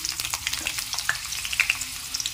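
Potato pieces fry in about three tablespoons of oil in a pan while being stirred, giving a close, crackling sizzle broken by light scraping and tapping from the stirring, with no voices.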